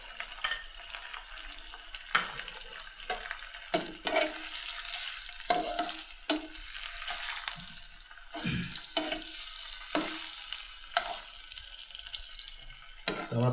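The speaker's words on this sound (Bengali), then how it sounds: "তো আমরা পনিরটা ডিপ ফ্রাইয়ে নিয়ে নিচ্ছি" Paneer deep frying in oil in a kitchen during a live recipe show, giving a steady close sizzle with intermittent stirring clatter and splashy bursts throughout.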